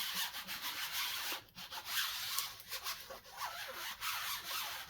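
Steady close rubbing and scraping as paint mask transfer film is burnished down onto a 1/650 scale USS Enterprise D model kit, a continuous soft friction sound with brief breaks.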